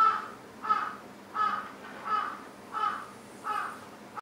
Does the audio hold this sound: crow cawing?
yes